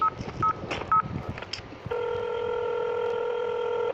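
Short keypad beeps from dialing 666 at first, then a sustained multi-tone telephone signal holding steady, clear and close, with no talk.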